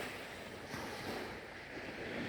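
Sea waves wash onto a beach in Fiji, a soft, continuous surf roar with gentle swells and some wind noise, heard faintly at a distance with no voices.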